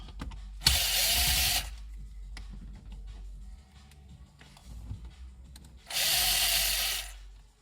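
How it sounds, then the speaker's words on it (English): Screw gun backing screws out of BMW E46 M3 rear window switch trim: two separate whirring bursts of about a second each, close and fairly loud, with quiet handling noise between them. "my screw gun and get those out"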